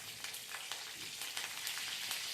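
Soft, continuous sizzling of curry leaves and ginger-garlic paste frying in hot oil, with occasional crackles and pops.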